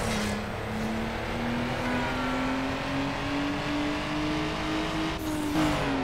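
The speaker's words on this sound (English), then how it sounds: "Is the RX-7 sound accurate in Underground 2?" Mazda RX-7 rotary engine in the racing video game Need for Speed Underground, a steady high droning engine tone that climbs slowly in pitch as the car accelerates, with a brief shift near the end.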